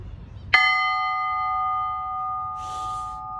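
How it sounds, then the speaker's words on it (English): A bell at a railway museum struck once, ringing out with a long sustained tone that fades slowly, with a brief rustle of noise near the end and no talking. "so this is a bell."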